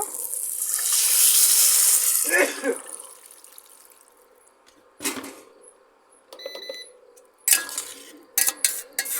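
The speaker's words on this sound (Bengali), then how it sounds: "কষা হয়ে গিয়েছে জল দিয়ে দেব" Water poured into a pan of sautéed koi fish curry with potatoes gives a loud rushing splash and hiss that swells and fades, followed by metallic clinks of utensils against the pan.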